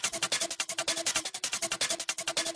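Two distorted staccato shaker samples layered together into a chaotic, rapid rhythmic pattern of dense, gritty hits, steady and loud with no voices.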